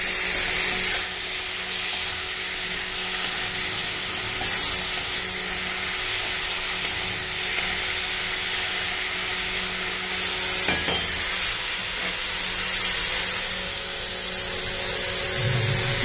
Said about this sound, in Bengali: বাটা মশলাটা দিয়ে এটা কষা হচ্ছে